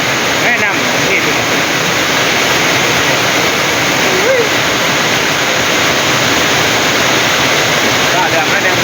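Heavy rain pours steadily near Tabom, a dense, continuous hiss of falling water with no breaks, loud and close throughout.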